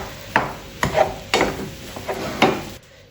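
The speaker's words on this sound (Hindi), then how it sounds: "अब अच्छी तरह मिक्स कर लेंगे।" A potato and flour snack mixture being mixed in a bowl, with about six distinct scraping, knocking strokes at irregular intervals, close and moderately loud, then a sudden cutoff.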